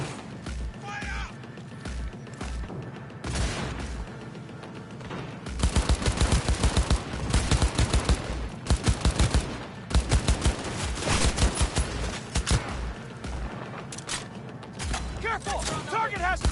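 Rapid bursts of video-game gunfire, with quieter scattered shots at first, then loud sustained machine-gun volleys in the middle and later, as voices shout over the shooting.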